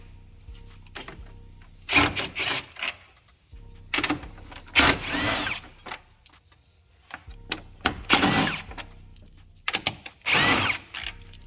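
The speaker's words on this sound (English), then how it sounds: "Next thing we're going to do is take out the 4 8mm screws." A power tool works on the four 8mm screws of an S197 V6 Mustang during a low-mount turbo install, sounding in several separate bursts with brief gaps between them.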